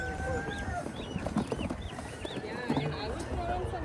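Chickens clucking among other fowl at an outdoor animal swap, with repeated short calls over a busy crowd murmur and nearby voices talking.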